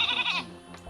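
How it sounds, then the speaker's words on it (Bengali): A goat lets out one short, wavering bleat at close range, followed by a brief quieter rustle. "এই ছাগলটা দেখছস"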